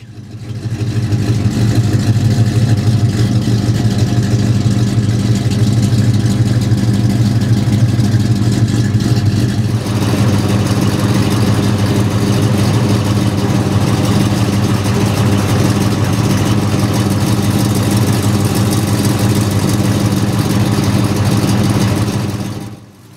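A 1970 Ford Torino King Cobra's Boss 429 V8 idles through long tube headers, a huge dual exhaust and IMCO mufflers, with a deep, steady exhaust rumble, loud and close, holding its low throb without letting up.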